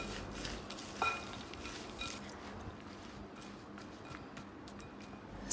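Dry peanuts with sugar and salt rattle and scrape against a pan as they are stirred, a steady gritty clatter with occasional sharper knocks.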